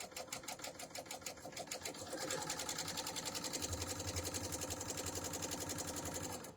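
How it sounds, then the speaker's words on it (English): BERNINA L800 overlocker sewing a 3-thread narrow overlock on quilting cotton, a rapid, steady mechanical stitching chatter close up that speeds up and grows denser partway through and runs continuously to the end. "So we're just going to do the 3-thread overlock wide,"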